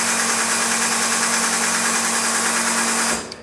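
An ultrasonic cleaning system runs while it cleans ink off a roller, making a steady loud hum and hiss with a fixed low tone, then cuts off abruptly at the end.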